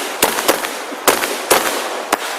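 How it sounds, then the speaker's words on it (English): Fourth of July fireworks bursting in a sequence of sharp, loud bangs, about five separate explosions spaced irregularly with a low hiss of crowd and outdoor noise between them. "Are you ready to watch some fireworks?"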